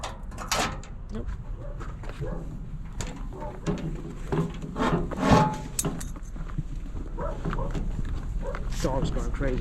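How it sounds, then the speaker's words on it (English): A dog barks excitedly somewhere off to the side during a day of curbside trash picking, intermittent yelps over steady background noise while someone talks nearby. "Dog's going crazy."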